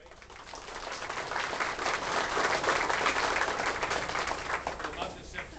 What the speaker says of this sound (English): Big round of applause from Wayne and Cynthia for the nice decorations.